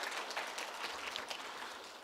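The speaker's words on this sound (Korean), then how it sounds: "우리 격려 한번, 박수 한번 할까요?" A church congregation applauding during a Sunday service, a steady wash of many hands clapping together at moderate distance, sustained and even throughout.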